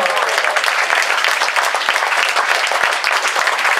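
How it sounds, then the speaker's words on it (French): An audience applauds performers at a royal carriage show in Hyères, dense continuous clapping at a loud, even level for several seconds with no break. "on peut les applaudir"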